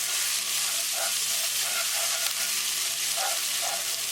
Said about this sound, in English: Cook for 10 seconds until the raw garlicky flavor is gone